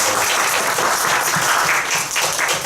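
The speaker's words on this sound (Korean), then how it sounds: "우리 다 같이 박수 한번 치고 예배에 시작하겠습니다" A church congregation claps together before Sunday worship, a loud continuous burst of many hands with no voices over it.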